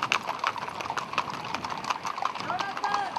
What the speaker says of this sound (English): And off they go, accompanied by horse riders from all over Israel.